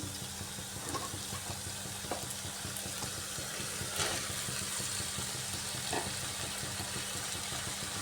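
Pre-fried pointed gourd (potol) tossed into a hot pan, crackling in a steady close sizzle with scattered sharp stirring knocks and no talking.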